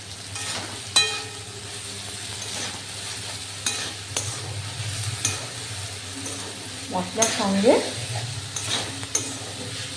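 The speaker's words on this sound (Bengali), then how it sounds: "আমি ভাজা আলু সয়াবিন সুন্দর করে একদম ভালো করে নেড়ে নিই" Fried potato and soybean stirred with spices in a pan, soft sizzling under repeated scraping and clinking strokes of a spatula, close up, with a brief spoken voice.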